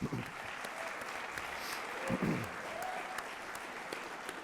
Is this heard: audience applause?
yes